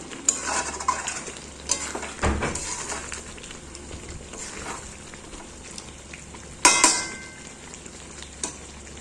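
Chicken korma being stirred in a pan, a spoon scraping and clinking against metal over a steady low sizzle, with a sharper clatter of utensils near the end and no voices.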